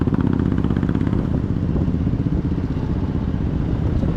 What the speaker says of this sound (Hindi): देखो यहाँ पे भी एक बाइकर भाई साहब जा रहे हैं सामने।